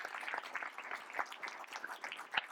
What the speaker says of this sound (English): Another round of applause for Vasu.